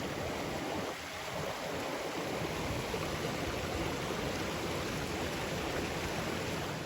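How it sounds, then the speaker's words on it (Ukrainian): A small mountain stream runs on an autumn climb toward Lake Nesamovyte, with water trickling in from all sides. The rush is steady, broadband and close throughout, with a faint footstep-like thud early on. "проходимо ще один такий невеличкий потічок. З усіх боків збігається водичка."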